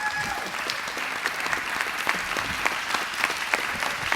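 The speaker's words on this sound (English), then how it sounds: "And I would like just one round of applause for Tina Marnotis." Audience applause at a community event honoring a teen center founder, a steady wash of many hands clapping, moderately loud and sustained throughout without speech.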